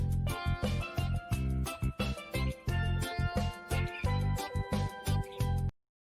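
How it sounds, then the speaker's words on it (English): Steel drums ring out bright pitched notes in a lively rhythmic pattern with a strong bass underneath, loud and continuous before stopping abruptly. "Steel drums normally sound like this."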